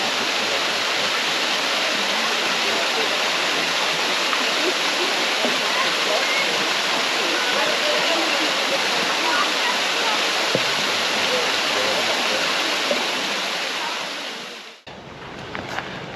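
Mountain creek rushing over slick stones and down small falls near a Smoky Mountain campground in Bryson City, North Carolina, a steady broadband roar of water close by that cuts off abruptly near the end.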